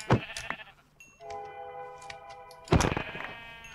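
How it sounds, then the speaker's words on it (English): A sheep bleats twice up close, one loud bleat at the start and another a few seconds later, with a quiet steady tone in between. "sheep are going to provide meat and wool"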